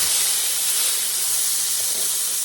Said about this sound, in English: I'm getting ready to flip my steak.